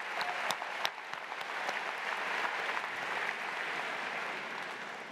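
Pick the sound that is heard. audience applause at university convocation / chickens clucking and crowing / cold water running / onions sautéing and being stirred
audience applause at university convocation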